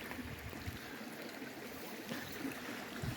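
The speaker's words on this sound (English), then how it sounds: "we're next to a creek, so I got some water" A creek flows beside a backpacking campsite, a soft, steady rushing and trickling of water heard at a moderate distance, faint and continuous with no voices.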